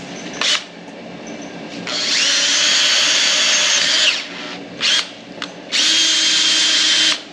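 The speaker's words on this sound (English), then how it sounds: "So all we're doing is stepping up the hole a little bit at a time." A power drill steps up a hole a little at a time toward a final 7/16 size during a Dana 80 axle install, whining in loud bursts: a short blip, a long run of about two seconds, a brief spurt, then another long run.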